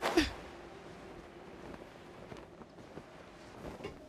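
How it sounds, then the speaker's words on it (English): A single sharp human sneeze bursts out right at the start, loud and close, then fades into low room noise with faint scattered movement for the rest of the moment. "I sneezed."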